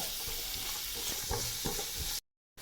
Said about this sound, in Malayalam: അപ്പോൾ കുറച്ച് സമയം ഒന്ന് അടുപ്പത്ത് കിടക്കണം, ഇടയ്ക്കൊന്ന് ഇളക്കി കൊടുക്കേണ്ടതുണ്ട്